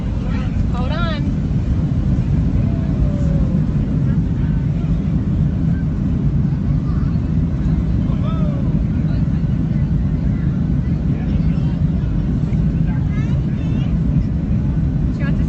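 A loud, steady low roar fills the cabin of an airplane in flight, with constant broadband rumble and wind noise, while children's voices chatter faintly over it.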